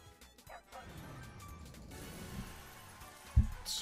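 Cartoon dog barks from the Dog House Megaways slot video game, a few yips and bow-wows over jingling game music, ending in a louder thump.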